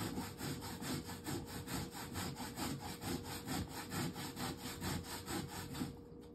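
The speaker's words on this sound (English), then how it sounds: "I am grating my cassava now." Cassava root being grated by hand on a grater, a steady rhythmic rasping stroke repeated about twice a second, close and loud, alone for several seconds before stopping.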